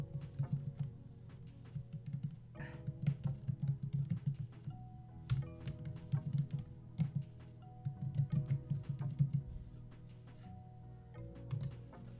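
Computer keyboard typing in bursts of quick clicks while adding text in a design program for a sublimation craft project on kraft paper bags, close and moderately loud over a steady low hum, with short pauses between runs.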